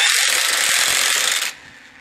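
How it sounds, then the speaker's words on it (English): An impact wrench tightens the center nut on a tilting wind turbine, a loud dense buzzing whir running close for about a second and a half before cutting off abruptly into quiet. "now we're going to tighten on the center nut with an impact wrench"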